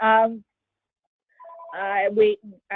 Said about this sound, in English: please excuse that phone in the background.